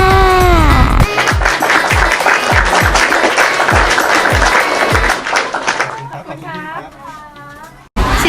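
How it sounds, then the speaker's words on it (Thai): A small group claps steadily for a child who has just had a first Pfizer vaccine shot, with the 5 to 11 age dose. Voices talk over the applause before it thins out into quieter chatter. "ปรบมือให้ค่ะ"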